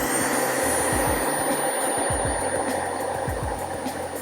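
A vacuum cleaner powered by a Geneverse HomePower ONE battery runs at a steady loud whine and roar, with a constant high tone and a few rising whooshes low in the mix.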